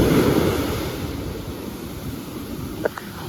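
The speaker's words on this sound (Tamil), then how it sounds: "கடல் அலையுதாங்க." Sea waves washing onto the shore at Tiruchendur beach, a steady roaring rush of surf mixed with wind noise, loudest at the start and easing slightly, with a couple of faint knocks near the end and no voices.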